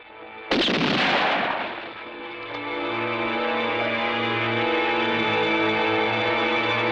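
A single loud gunshot cracks out in a 1970s western film, close and sharp, then rings on in a long echoing, distorted tail that hangs over a sustained tone.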